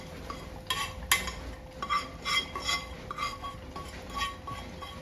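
A spoon stirs okra soup in a cooking pot, producing intermittent soft scrapes and light metallic clinks close by, with no one talking.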